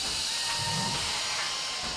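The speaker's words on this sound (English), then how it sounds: "Out comes the drill." A steady high-pitched whirring hiss runs throughout from a combat robot's spinning drill weapon in a Robot Wars arena, loud and continuous with no voices.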